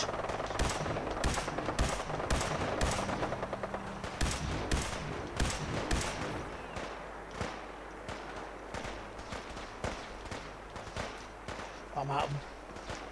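Rapid bursts of automatic gunfire in the video game Fallout 4 crackle loudly in the first six seconds, then give way to scattered single shots and impacts, with a voice talking over the action.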